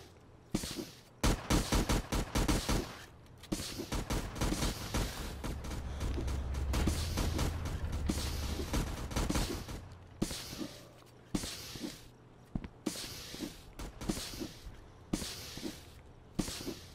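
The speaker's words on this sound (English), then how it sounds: "Why are you shooting at me?" Rapid bursts of gunfire ring out in an action scene from a trucker robbery movie, shots clustered in loud volleys with short gaps, some sustained automatic fire, no talking over them.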